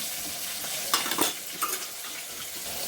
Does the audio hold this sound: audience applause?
no